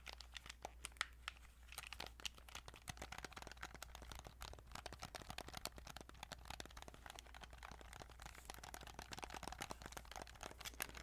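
A video game controller's buttons clicked quietly and rapidly in an ASMR setting, giving dense, irregular tapping and crinkly plastic clicks up close with no talking.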